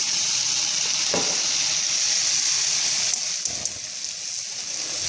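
Olive oil heating in a pan before potatoes go in, a steady hiss and sizzle close by, with a couple of soft knocks and small pops partway through.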